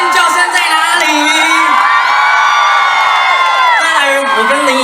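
A crowd at an outdoor summer concert in Pingtung screams, whoops and cheers loudly and continuously, with high shrieks rising and falling over a dense roar of voices.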